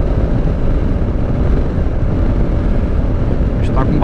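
A motorcycle carrying a rear top box accelerates along a road between São Lourenço and Soledade de Minas. A loud, steady engine roar blends with heavy wind rush, continuous throughout, with no talking over it.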